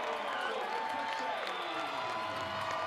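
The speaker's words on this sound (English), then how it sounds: "Home folks with something to cheer about." A home crowd cheering after a touchdown at a college football game between Abilene Christian and Mercer, a steady roar of applause and shouting held at an even level under a commentator's talk.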